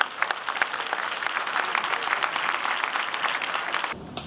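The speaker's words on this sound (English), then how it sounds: "Ladies and gentlemen, Anil Kapoor, a big round of applause," Audience applause at a business forum, a dense sustained roar of many hands clapping for about four seconds before cutting off abruptly.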